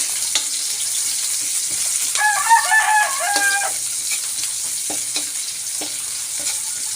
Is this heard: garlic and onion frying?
yes